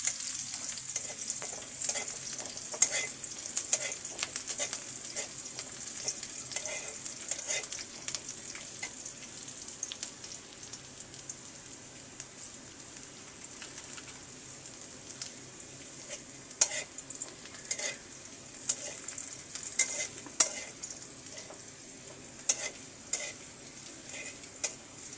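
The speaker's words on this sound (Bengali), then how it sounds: "পেঁয়াজ এবং রসুন কুচিটা আমি সুন্দর করে ভেজে নেব।" Chopped onion and garlic fry in oil for a radish greens stir-fry. A steady, fairly quiet sizzle carries on throughout, with scattered sharper crackles and scrapes from stirring and no speech.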